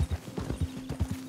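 Horse hooves clip-clop at a steady, even trot in the Western video game Red Dead Redemption 2, close and moderately loud, with no voices over them.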